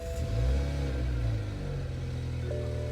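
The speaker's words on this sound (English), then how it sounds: "So now we're gonna have Toyota Supra sounds" A simulated Toyota Supra engine note played through the Carly app, a steady mid-low rumble with a slight rev swell early on, continuous and fairly close with no voices.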